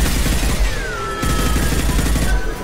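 Sustained gunfire from a firefight in the Mass Effect video game, dense rapid shots rattling continuously for the whole stretch with a booming low end and a brief dip midway, loud and close.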